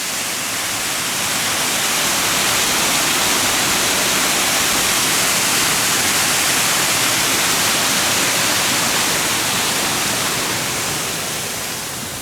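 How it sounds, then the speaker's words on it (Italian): A mountain waterfall in the Dolomites roars continuously, a loud, even rush of falling water that fills everything with no pauses or other sounds. "Vedo quella cascata che viene giù."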